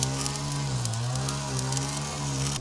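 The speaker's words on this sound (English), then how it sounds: "if you hear a weed whacker going on in the background" Weed whacker running steadily in the background, a loud buzzing engine drone with a brief dip in pitch partway through, heard alone without talk.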